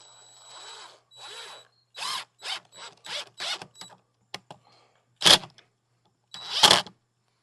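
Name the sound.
screw being driven into bird feeder mount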